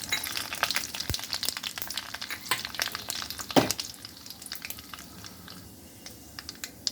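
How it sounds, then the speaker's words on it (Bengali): Mustard seeds and dried red chillies, the chillies slit down the middle, fry in oil on a low flame, giving a steady close sizzle with dense crackling pops throughout and one louder burst midway. "সর্ষে আর লঙ্কাটা ভাজা হয়ে গেছে, কম আঁচে আছে এটা, মানে লো ফ্লেমে।"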